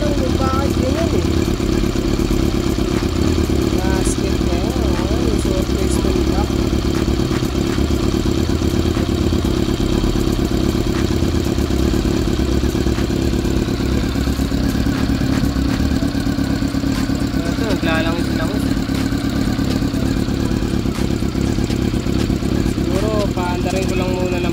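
A Honda CB-1 400 motorcycle engine with engine issues idles steadily and loudly at close range with a constant clattery drone, while someone talks over it.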